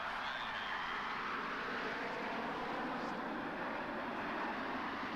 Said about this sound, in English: look at that collection of Starfighters